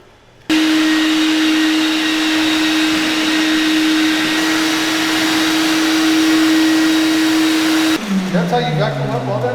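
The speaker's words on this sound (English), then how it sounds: "That's how you vacuum up all that dust." A vacuum cleaner sucks dust off a newly epoxy-coated floor in a barndominium, droning loudly and steadily with a constant whine, then powering down and winding off near the end.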